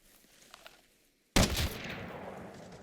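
A single loud gunshot in the tactical shooter Arena Breakout, fired from a gun loaded with tier 1 bullets, cracking sharply after near silence and followed by a long reverberant tail.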